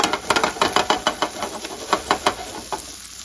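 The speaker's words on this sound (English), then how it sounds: "Give it a nice shake in the pan" Flounder fillets in a hot pan being shaken, giving a close hiss that swells in quick rhythmic bursts as the pan moves back and forth, then thins out toward the end.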